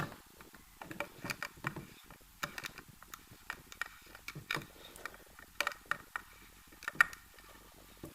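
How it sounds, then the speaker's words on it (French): A part being unscrewed by hand, giving a run of faint, irregular ticks and small metallic clicks in a quiet room. "je la dévisse."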